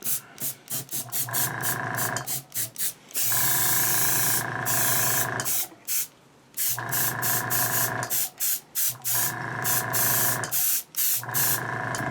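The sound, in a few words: spray painting to weather a jetpack nozzle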